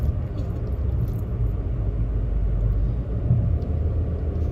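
Steady low rumble heard from inside a moving car, continuous road and engine drone with no voices.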